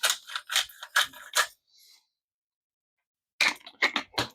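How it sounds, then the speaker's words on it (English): A pepper grinder cracks black pepper over sausage roll filling in a home kitchen. The close, rasping ratchet crunches come in two rapid bursts separated by a quiet pause. "a couple of grinds of black pepper into each"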